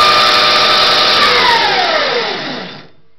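An electric go-kart motor on a home-made controller whines at full speed, a loud steady high-pitched hum that winds down in pitch and cuts off near the end.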